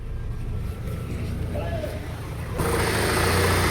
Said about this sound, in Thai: ไปดูเครื่องยนต์กันนะครับ ติดง่ายครับ